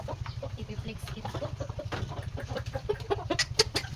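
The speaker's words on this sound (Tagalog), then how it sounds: "4 months pa lang yung aming manok." Young chickens, about four months old, cluck and peep in a close flock over a steady low hum, with scattered sharper calls and a person talking quietly in the background.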